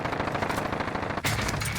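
Gunfire from a firefight in the video game Warzone, rapid automatic bursts rattling continuously and fairly loud, with a sharp louder burst near the end and no talk.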